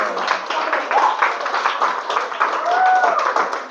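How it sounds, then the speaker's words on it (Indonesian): Students in a classroom clap their hands together in a brief round, a lively cluster of close claps with a teacher's voice heard over them. "Kasih tepuk tangan baik kelas ini."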